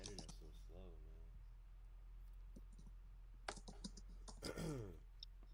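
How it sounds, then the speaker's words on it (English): Fast typing on a computer keyboard, clusters of crisp close key clicks with a few heavier strikes, under low background hum and occasional talk. "Man, you typing hard."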